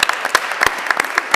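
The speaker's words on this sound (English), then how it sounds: "So please give them another round of applause for candidates." An audience claps for the candidates at a town election debate in Southbridge, a brief burst of loud, uneven hand claps close by.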